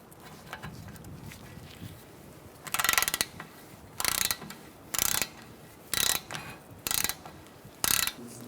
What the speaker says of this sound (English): We're going to torque this to 37 foot-pounds.